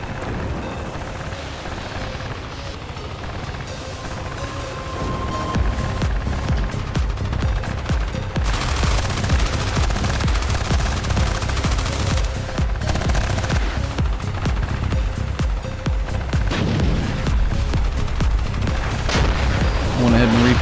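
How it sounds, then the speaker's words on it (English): Battlefield combat in the Armored Brigade 2 wargame: dense rattling machine-gun fire and repeated artillery booms roll on steadily, loud and continuous, with a heavier barrage building from midway and no talking. "I'll call in some fire missions on them."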